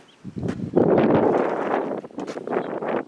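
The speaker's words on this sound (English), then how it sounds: "It's supposed to be 25 to 30 mile an hour wind today." Strong outdoor wind of about 25 to 30 miles an hour, with gusts near 45, buffets the microphone in loud broad rushes that swell and ease over a few seconds, with no clear voices.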